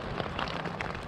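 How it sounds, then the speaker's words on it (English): Steady rain patters on a tent during a winter camping trip, a dense, continuous hiss of drops with no pauses, close and fairly loud. "It started raining about 1 o'clock in the night."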